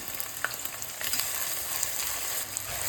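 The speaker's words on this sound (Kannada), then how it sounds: "ಈರುಳ್ಳಿ ಸ್ವಲ್ಪ ಬ್ರೌನ್ ಕಲರ್ ಬರೋವರೆಗೂ ಫ್ರೈ ಮಾಡ್ಕೋಬೇಕು" Sliced onions frying in hot oil with star anise, marathi moggu and bay leaves. A dense, continuous sizzle sounds close by, broken by a few faint stirring scrapes, with no voices.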